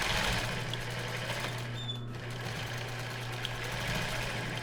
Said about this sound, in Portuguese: E aí eu vou seguir costurando aqui agora na borda.